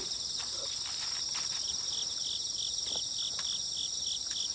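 Crickets chirping in a cabbage field, a continuous high-pitched trilling chorus with steady pulsing, plus faint rustling and footstep-like patter underneath.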